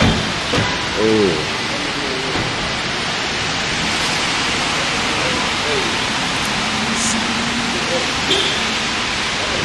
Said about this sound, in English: Rain ain't no joke.